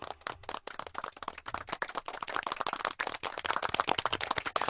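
An audience at a live comedy show in Rajkot claps in a burst of separate, sharp hand claps that thicken into brisk, uneven applause, fairly close and without speech.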